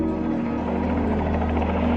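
A helicopter drones steadily nearby, its rotor producing a constant low thrumming buzz with no other sounds.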